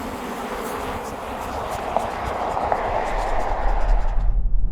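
A Volvo EX90 electric SUV launches from standstill in constant all-wheel drive, giving a rising whir of motor and road and wind noise that swells louder and rumbles over several seconds, with no voices.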